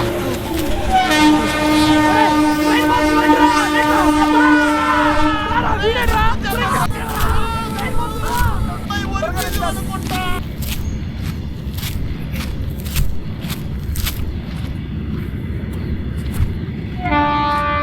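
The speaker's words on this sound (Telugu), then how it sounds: "పక్కనే రైల్వే ట్రాక్ ఉంది ట్రైన్ కూడా వస్తుంది చూద్దాం" A train rolls along the track on the Araku–Kirandul route with rumbling wheels and horn-like tones, people chattering nearby, followed by rhythmic clacks as carriages pass.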